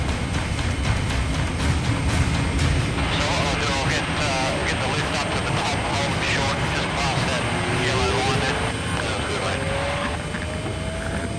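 A helicopter sits on a pitching ship's deck with rotors turning for a hot load, a loud continuous engine roar and rotor thrum filling the whole clip, with voices faintly audible beneath it.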